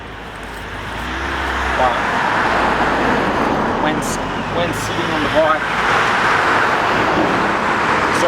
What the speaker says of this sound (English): sorry about all the cars that are passing by